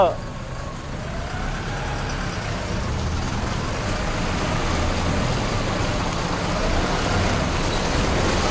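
A steady, loud rushing roar of sea waves and surf on the rocky Konkan coast, continuous throughout with a low rumbling undertone.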